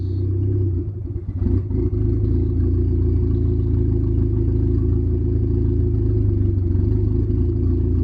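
A modified Mitsubishi Eclipse 2G engine idles on its own after fuel tuning, a steady low rumble with a brief stumble and clatter early on before settling into an even, close drone.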